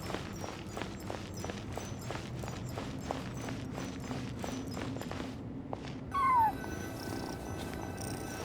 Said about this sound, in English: And so, I followed the cat's cries to find my way out.